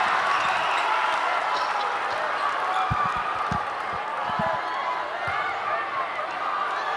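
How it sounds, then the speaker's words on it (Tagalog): Crowd noise fills a basketball arena during a Barangay Ginebra PBA Philippine Cup game, a continuous roar with a few ball bounces, while a commentator talks over it. "Crowd trying to lend its support to the Ginebra cause."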